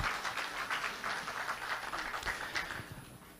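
Audience applause fills a party convention hall, with steady, dense clapping that runs without a break and stays moderately loud throughout.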